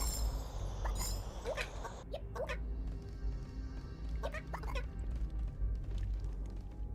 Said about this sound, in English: They sound like chickens.